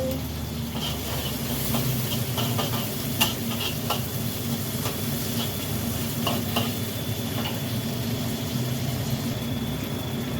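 Spice paste for stir-fried water spinach sizzling as it is sautéed in a pan: a steady, loud hiss and crackle throughout, broken by occasional light scrapes and taps of a stirring utensil.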